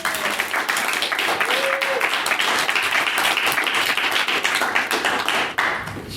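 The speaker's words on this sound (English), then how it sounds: "can we have a round of applause for Owen for organising this?" Audience applause at a debating workshop, a dense, steady wash of many hands clapping at close range that continues for several seconds.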